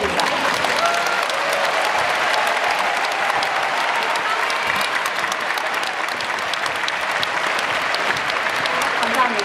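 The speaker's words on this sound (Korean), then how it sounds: "여러분, 뜨거운 박수로 맞아주셨으면 좋겠습니다." An audience at the Pyeongchang Winter Olympics first-anniversary celebration claps steadily and warmly, a dense, even applause that holds for the whole stretch.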